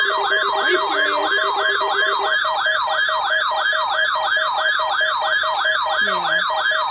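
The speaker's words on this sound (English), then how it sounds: "National Weather Service warning alarm tone" Warning alarm tone from a broadcast National Weather Service alert under the Emergency Alert System, a loud continuous warbling wail rising and falling steadily and alone for about seven seconds.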